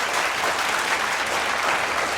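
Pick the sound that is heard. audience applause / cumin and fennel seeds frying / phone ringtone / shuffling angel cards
audience applause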